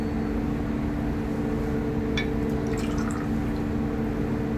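White rum is poured for a frozen daiquiri, a soft continuous liquid trickle with faint splashes over a steady background hiss.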